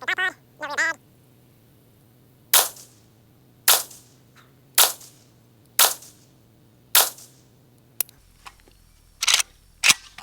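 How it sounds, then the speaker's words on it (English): A Century Arms Romanian RPK AES10B2 rifle fires a group of single shots, about seven sharp, loud cracks spaced roughly a second apart, preceded by two short squeaky tonal sounds and quiet gaps between shots. "shoot another group, see how it does"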